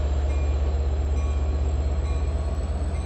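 Long Island Rail Road train 2724 rumbles through Speonk, a steady heavy low roar with continuous rail noise, loud and close without any voices.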